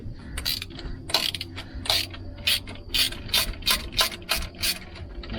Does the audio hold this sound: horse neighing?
no